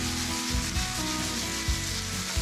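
Snow peas sizzle in an oiled pan with sesame and a pinch of salt, a steady close frying hiss with occasional stirring scrapes and low knocks, no voices.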